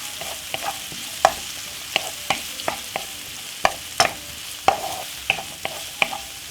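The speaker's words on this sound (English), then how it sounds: "Give it a quick saute" Vegetables and spring onion saute in a medium frying pan for salmon fried rice, a steady sizzle broken by frequent sharp clacks of stirring, close and without talk.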